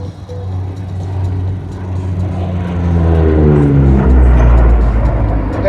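Military transport aircraft powered by two Rolls-Royce Tyne turboprops at an airshow, a loud steady propeller drone with rising and falling harmonic tones as it passes, swelling louder toward the end.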